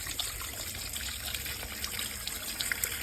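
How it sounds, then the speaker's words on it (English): Poured water trickles down a wall behind a fixture and runs into a gap, making a steady, close, continuous splashing dribble with no voices over it. "I'm gonna put some water there to show if water was coming down that wall"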